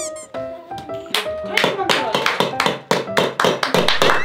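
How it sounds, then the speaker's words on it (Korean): Hands clap in quick, uneven bursts at a family celebration of a baby's 200th day. The claps are close and lively, and voices talk over them. "박수"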